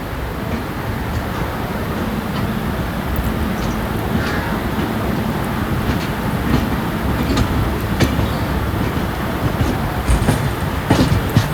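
Navajivan express train running near a station, a steady close rumble of wheels and carriage noise with faint clicks and knocks throughout, no voices.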